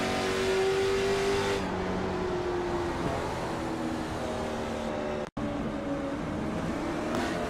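Onboard engine of Ryan Kuhn's RKM 31 touring race car at New Hampshire, a loud steady drone that shifts pitch as the driver works the throttle, with a brief dropout of sound partway through.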